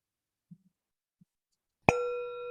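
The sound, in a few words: meditation bell rung to begin a session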